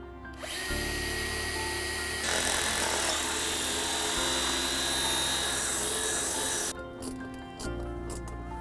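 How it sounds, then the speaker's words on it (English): A loud power drill with a small pilot bit whirs steadily for several seconds, its pitch shifting as it bores into a wire-reinforced tyre, then stops into quieter mechanical hum. "So all I actually need to do is drill 1 hole. I've got a small pilot drill."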